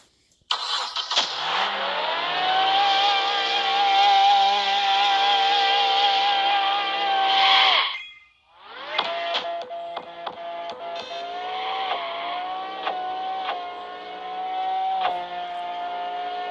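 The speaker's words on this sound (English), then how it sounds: "I really like the sound of this new exhaust I have. Just listen to it." A drag race car engine in the video game Drag Racing Streets revs hard with a raspy, rising exhaust note, cuts out briefly, then roars back and keeps revving loudly with no talking.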